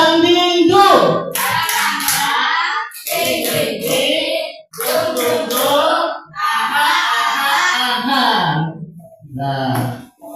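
A class plays the rhythmic clapping game tepuk dan dingdung, with bursts of group hand claps set against loud chanted and sung voices in short repeated phrases.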